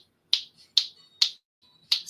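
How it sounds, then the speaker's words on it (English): Four crisp finger snaps spaced about half a second apart, close and sharp against near silence, with a slightly longer gap before the last one. "Snap my fingers."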